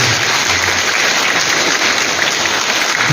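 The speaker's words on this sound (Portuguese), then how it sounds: "uma salva de palmas, então, pessoal" A church congregation at a chapel novena gives a round of applause, dense and steady clapping from many hands filling the whole stretch with no voices on top.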